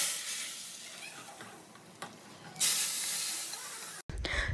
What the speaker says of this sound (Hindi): सिंपल तड़का था, ज़ीरा, लहसुन और साबुत लाल मिर्चों का तड़का लगाया था